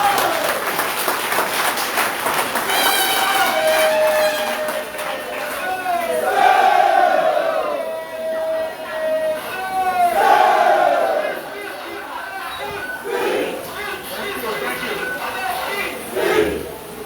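Crowd at a town hall meeting with citizens claps and cheers in swelling waves, with a speaker's amplified voice and a sustained tonal sound running through the noise, then the applause eases toward the end.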